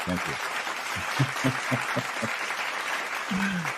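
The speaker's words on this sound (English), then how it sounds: "Got the applause going on." Audience applause rolls on at moderate volume while someone talks over it in short phrases, the clapping forming a steady bed beneath his voice.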